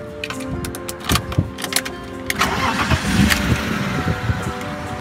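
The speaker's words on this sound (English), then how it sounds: "This key that we've kept all these years should start this car." An old car is started with its original key: the starter cranks in short bursts, then the engine catches and settles into a steady, loud, close idle with no talking.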